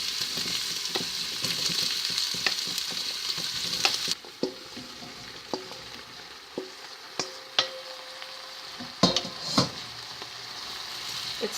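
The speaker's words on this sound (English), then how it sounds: "So now just add the beans" Broad beans and garlic sizzle and fry steadily over medium heat in a pan, a continuous crackling hiss broken by several sharp clicks and scrapes of a utensil stirring against the pan.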